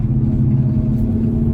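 A 1970 El Camino with a turbo 400 transmission and Gear Vendors overdrive, driving in second gear, its engine giving a loud, steady low rumble from inside the cab.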